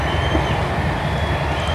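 Train running along a railway line on the route up to Colchester, a steady loud rumble of wheels and carriage noise with no break and no voices.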